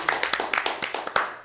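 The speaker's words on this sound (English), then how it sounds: "can we get a round of applause for that?" A small audience gives a short round of applause at a live talk event, scattered claps rattling irregularly for a second and a half at moderate distance.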